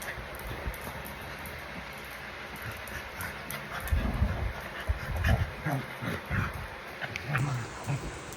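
Pet dogs pant close by in short, irregular bursts of breathy rasping that grow more frequent in the second half, over a quiet, steady background hiss.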